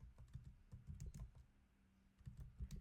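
Computer keyboard typing: irregular bursts of sharp, close clicks with brief pauses between flurries, no voices.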